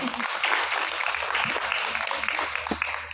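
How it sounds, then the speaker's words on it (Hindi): A women's gathering at a seminar on domestic violence breaks into applause, a fairly quiet and uneven patter of clapping with a voice briefly audible underneath. "तो खुद के लिए आप तालियां बजाइए पहले."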